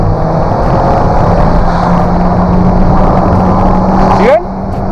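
Automatic car engine revved hard at full RPM, a loud sustained roar with a steady low drone that holds for several seconds before dropping abruptly near the end.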